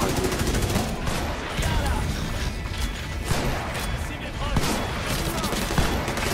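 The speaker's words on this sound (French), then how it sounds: "Et ça spam les tirs." Rapid gunfire in the video game The Division, dense overlapping bursts of shots and impacts crackling continuously at close range with barely a break, loud and busy throughout.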